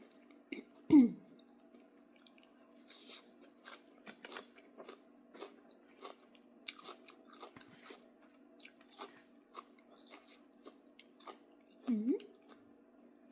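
Close, soft chewing and crunching while eating fresh shrimp with papaya salad, irregular bites spread throughout, with a voice briefly murmuring near the start and end.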